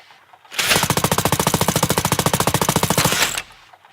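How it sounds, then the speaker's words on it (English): A Gatling gun fires one rapid, evenly spaced burst of shots lasting about three seconds, loud and close, starting and stopping abruptly with near silence on either side. "that's a Gatling gun, and it works"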